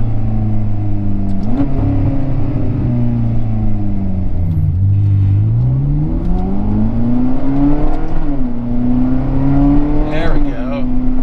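A Ferrari California engine revs repeatedly while driving, climbing and dropping in pitch several times, loud and close throughout, with a voice briefly heard.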